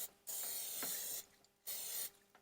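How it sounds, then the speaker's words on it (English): Olive oil cooking spray hisses out of an aerosol can in two separate bursts, each roughly a second long, onto a pizza setup at an outdoor grill, close and fairly loud, with no talking. "I'm just gonna take this and just spray this just a touch."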